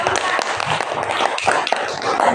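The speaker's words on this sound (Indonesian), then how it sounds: "berikan tepuk tangan untuk kelompok" Students in a classroom applaud a presenting group, a brief burst of scattered, overlapping claps with voices murmuring underneath.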